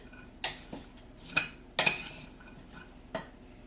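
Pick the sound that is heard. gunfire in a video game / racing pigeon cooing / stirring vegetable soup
stirring vegetable soup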